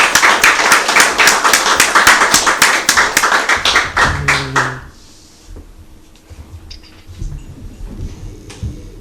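An audience at an evening poetry reading breaks into loud, dense clapping that welcomes poet Shaindel Beers, then fades after about four seconds into a quieter room with a few shuffles and thumps.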